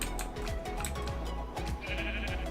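Sheep bleat repeatedly in a Minecraft farm pen, several wavering calls overlapping at close range, with other farm animals like cows and pigs nearby and steady game background noise underneath.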